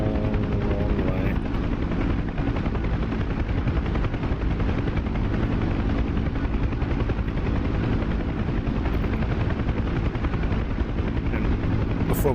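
UH-1 Huey helicopter in the DCS combat flight simulator, its rotor and turbine droning loud and steady throughout with a dense, constant thump and no break.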